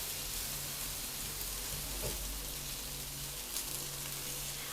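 Spiced potato filling for aloo paratha cooks in a pan with a soft, steady sizzle and faint crackle, quiet and continuous throughout with a light clink near the middle.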